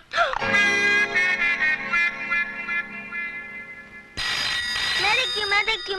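An old landline telephone rings in a Hindi romantic film: a bright, sustained electric bell ring, a brief pause, then a second ring burst, loud and close.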